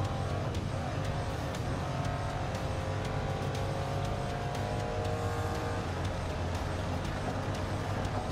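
A racing car engine in the video game Grid Legends drones continuously and loudly, with repeated rising revs and sharp gear-change steps throughout.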